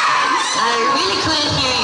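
A school audience at the Ms. Trashionista 2019 pageant in Plaridel cheers and whoops in a dense, steady roar that fills the whole stretch, with a voice shouting over the crowd.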